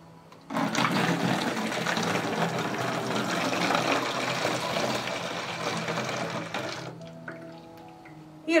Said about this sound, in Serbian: Ovako dobijenu smesu sipaću u balon od 5 litara